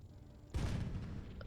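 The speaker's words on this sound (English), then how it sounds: "There's a new ammo rack explosion or" Tank ammo rack explosion in the video game Sprocket: a sudden loud, broad blast that swells and then rumbles on steadily as a heavy roar through the rest of the moment.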